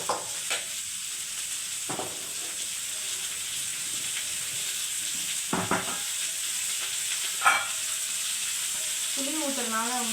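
Six or seven chillies frying in hot oil for a Tamil fish curry crackle and sizzle steadily, with occasional louder spits and stirring clatter; a brief voice surfaces near the end.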